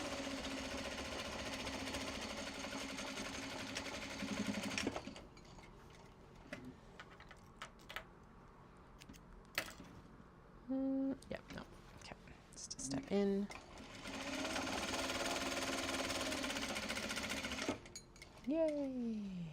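A sewing machine runs a seam on a fabric sling in bursts, whirring steadily at the start and end with ticks and clicks in between, while a person talks softly.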